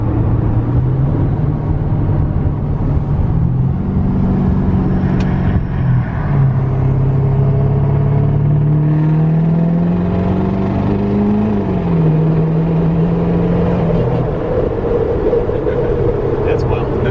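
Inside the cab of a Duramax L5P diesel pickup, the engine drones low and then pulls harder as it accelerates under boost, with its pitch rising and falling steadily while people talk over the heavy rumble.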